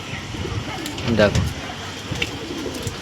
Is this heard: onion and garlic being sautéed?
no